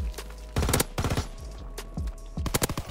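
Rapid bursts of PPSh submachine gun fire in Call of Duty WWII, loud and close, with several short automatic volleys separated by brief pauses.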